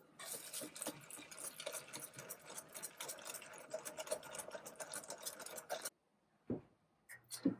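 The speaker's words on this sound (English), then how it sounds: "And we'll go ahead and just whisk that all together." Pancake batter with chocolate chips being whisked in a bowl, a steady scraping, stirring clatter for about six seconds, then a pause and a few brief clinks near the end.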